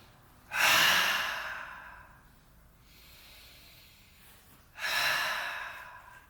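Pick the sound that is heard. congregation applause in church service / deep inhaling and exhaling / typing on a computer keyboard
deep inhaling and exhaling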